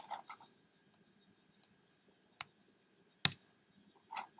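A few sparse, crisp mouse clicks at a computer while working in Onshape CAD software, isolated snaps separated by quiet pauses, one louder double click near the middle.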